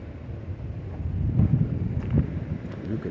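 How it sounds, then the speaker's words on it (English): Wind gusting on a hike in the Great Smoky Mountains, a steady close rush and buffeting against the microphone that swells louder through the middle, with no talking. "You can definitely hear that wind."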